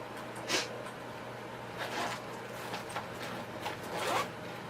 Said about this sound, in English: Zip it back up and you're good to go.